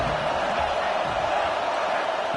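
A loud, steady roar of crowd cheering fills a stadium in a college football video game, a dense continuous wash of noise with no distinct breaks.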